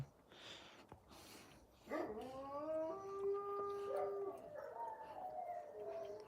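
A mother dog beside her newborn puppies lets out a long, mournful howl that rises and wavers for several seconds, fairly close and quiet, after a few faint whimpers.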